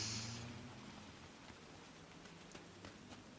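Rain falls in Night City within a video game, a faint, steady hiss of drops spattering on surfaces, with no voices.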